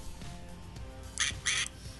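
Video game duck quacks: two quick raspy squawks rise over a faint, cluttered background, brief and moderately loud.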